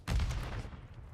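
Assault rifle fire in Call of Duty, a short loud burst of rapid shots at close range that cuts off and trails into a fading tail.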